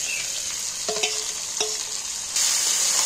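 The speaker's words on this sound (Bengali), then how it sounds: "আমি এইবার মাংসটা তুলে দিচ্ছি তেলের" Chicken pieces fry in oil on top of onions, a loud steady hiss of sizzling with a couple of brief utensil taps, the sizzle swelling louder near the end.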